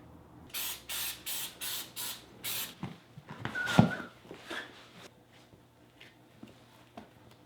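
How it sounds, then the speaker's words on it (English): Short bursts of 3M Rubber and Vinyl 80 spray adhesive, six quick hisses in a row at close range, followed by quieter handling noises and a faint squeak. "Let's spray it. 3M rubber and vinyl 80 spray adhesive."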